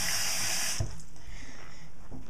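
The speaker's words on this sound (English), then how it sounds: "So now I'm just going to rinse my hands real" A tap runs steadily as hands are rinsed under it, with a strong hiss at first that softens into quieter flowing water and faint splashes.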